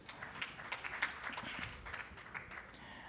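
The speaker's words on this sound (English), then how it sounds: "please welcome him with a round of applause." Scattered audience applause at a security conference, faint and thin, made of a few distant hand claps spread unevenly over a couple of seconds.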